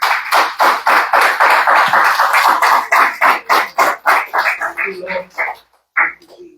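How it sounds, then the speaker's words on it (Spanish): A church congregation claps in a fast, steady rhythm that slows and thins out toward the end, with a few voices rising briefly as it fades. "Un aplauso al Señor Jesucristo"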